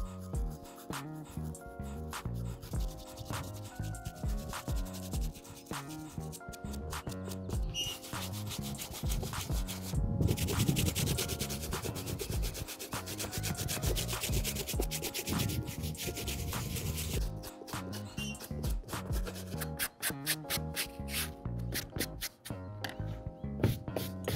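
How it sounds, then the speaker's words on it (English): Stiff-bristled detail brush scrubbing a leather Air Jordan 1 Chicago Shadow sneaker, close rapid back-and-forth bristle rasping in dense bursts with short pauses, heaviest through the middle. "It's a little more detailed brush with stiffer bristles. I'm just gonna get in there and do some more scrubbing."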